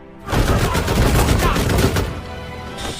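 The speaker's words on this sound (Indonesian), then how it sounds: "melakukan pembantaian kembali dengan menggunakan senapan otomatisnya" Automatic rifle fire in a film scene set inside a prison: loud, rapid, sustained bursts of shots that run for a couple of seconds, then thin out toward the end.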